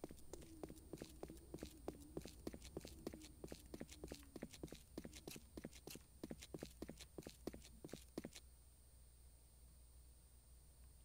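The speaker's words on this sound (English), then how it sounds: "I heard this weird echo with my footsteps" Footsteps in the survival video game 7 Days to Die tap in a quick, steady series of sharp clicks with a faint doubled, echoing quality, quiet overall, then stop abruptly, leaving near silence.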